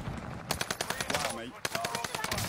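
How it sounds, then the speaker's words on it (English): Automatic gunfire in an online shooter game during a tournament stream, rapid bursts of loud close shots rattling almost continuously, with a player talking over it. "We're taking fire."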